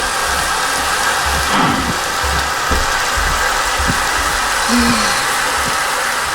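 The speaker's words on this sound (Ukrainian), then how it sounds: "О, дощ! Тільки не дощ." Steady heavy rain hiss with low rumbling thunder rolling underneath in Minecraft, constant and close, with no talking.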